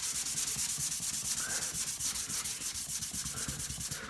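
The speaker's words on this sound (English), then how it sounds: "Now let's try my super fine sander on this." A super fine sander works over a resin surface, a steady close buzzing grind with rhythmic rubbing strokes running the whole time, no voices.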